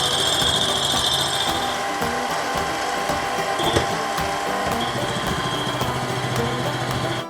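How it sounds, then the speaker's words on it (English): A lathe machining soft brass and bronze parts for a houseboat steering system, giving a loud, steady close-up mechanical whir with constant motor hum and a faint high tool whine, no talking. "Brass and bronze, they just machine so easy in the lathe since it's a softer metal."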